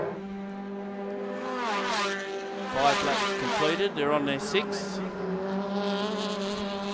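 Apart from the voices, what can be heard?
Formula Ford race cars passing by on track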